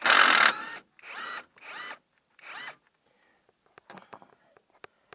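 A power tool fitted with a 17 socket loosens a nut during a CV joint replacement, running in four short, loud whirring bursts, followed by scattered faint clicks and taps.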